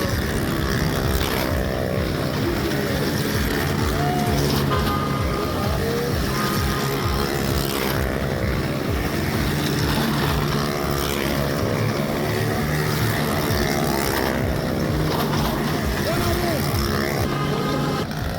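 A private car's engine revs and drones continuously at a fair's motor show, a loud, rough, sustained roar with shifting pitch, while a crowd murmurs and voices talk faintly underneath.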